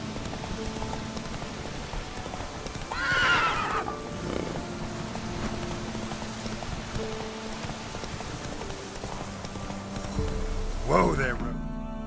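Roach, a horse in The Witcher 3 video game, whinnies in a short rising neigh early on and again near the end, with a rider's shouts and faint patter under a steady game backdrop.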